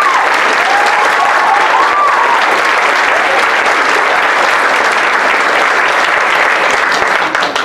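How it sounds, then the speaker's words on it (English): Sustained, loud audience applause fills a school theatre after a student production, steady dense clapping with a few faint cheers throughout, tapering slightly at the end. "Big round of applause."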